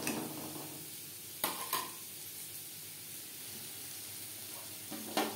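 Carrot pieces fry in a pan with a faint, steady sizzle, punctuated by a few brief clinks and scrapes of stirring; quiet, with no talking.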